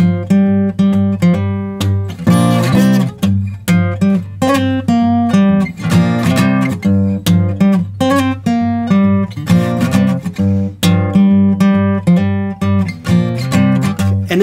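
A delta blues riff on guitar in standard tuning, a minor pentatonic groove built on a monotonic G bass under thumb. Plucked notes and ringing chords repeat in a loose, hypnotic rhythm, close and clear, with no talking.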